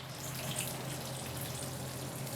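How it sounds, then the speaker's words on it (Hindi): Water pours steadily into a pot of chicken kofta curry, a continuous splashing and trickling stream at close range with no talk over it. "अब मैं इस मौके पे पानी शामिल कर दूंगी।"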